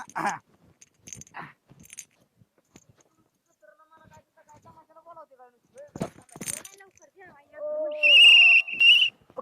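A shrill whistle is blown in a village comedy skit, sounding loud and sustained near the end after scattered knocks, clatter and bits of talk.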